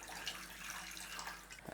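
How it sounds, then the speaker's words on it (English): Water poured from a tap into a pot of rice vinegar pickling liquid in a home kitchen, a steady soft rushing stream, faint and continuous. "I'll add a little bit of water,"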